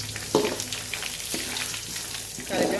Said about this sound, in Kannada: ಸ್ವಲ್ಪ ತೆನ್ಯಾಗ ಫ್ರೈ ಮಾಡ್ಕೊಬೇಕು ನೋಡ್ರಿ